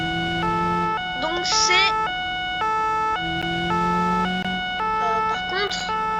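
A gendarmerie police siren in the BeamNG.drive driving game sounds a steady two-tone wail with loud sustained pitches, while a voice talks over it.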